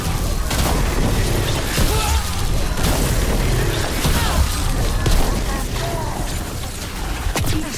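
Gas cannon blasts in a Dragon Age: The Veilguard battle, loud booming bursts and mechanical clanks repeating over dense, continuous combat noise, with a voice speaking at times.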